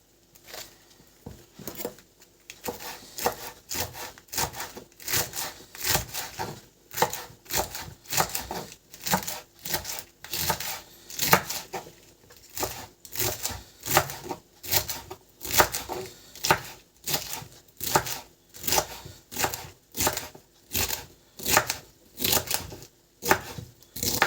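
Steady rhythmic knife chopping of cabbage on a cutting board for borscht, rapid repeated cuts continuing throughout at a moderate distance.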